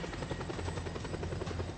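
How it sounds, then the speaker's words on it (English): A helicopter in the Just Cause 2 video game drones continuously with rapid, steady rotor chopping and a low engine hum, fairly quiet and with no speech. "This is helicopter in the game."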